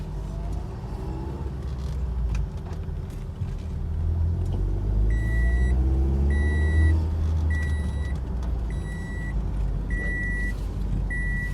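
A 2011 car with a Duo engine on a test drive: a steady, close engine rumble with rising and falling revs, while a repeated high electronic chime beeps in the cabin.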